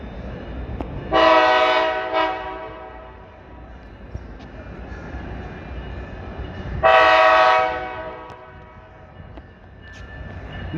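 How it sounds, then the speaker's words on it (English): A Tri-Rail commuter train approaching MIA station sounds two long, loud horn blasts several seconds apart over a steady rumble of rolling rail cars. "get a little bit of a better view of the train as it comes in"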